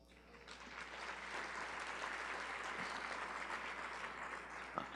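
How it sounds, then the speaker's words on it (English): Audience clapping at a convention banquet, a broad wash of many hands that swells after a quiet start and holds steady, heard from a distance. "I'm glad you're clapping because you'll have to pay for that"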